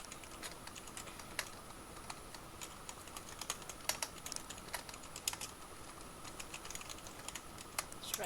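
Steady, moderately quick keystrokes on a computer keyboard while words are written out for a Scratch 3.0 platformer project, clicks close and crisp over a faint room hiss, with no talking.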